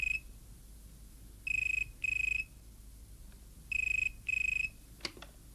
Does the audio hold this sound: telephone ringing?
yes